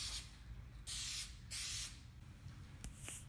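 Automotive OEM color paint sprays in three separate bursts of broadband hiss from a spray gun, each about half a second to a second long, over a quiet room background, with a shorter final puff.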